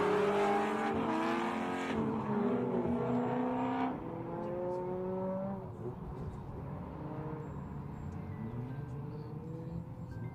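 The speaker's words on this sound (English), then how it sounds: "go for a lap in these 3 Pro Drift cars" Pro Drift race cars at an SA drift state series round scream past at speed, engines revving with rising and falling pitch sweeps and tire noise; loud at first, then fading as they pull away.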